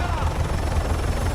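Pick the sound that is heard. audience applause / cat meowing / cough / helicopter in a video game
helicopter in a video game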